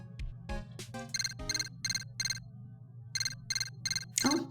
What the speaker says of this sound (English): Oh, looks like the phone.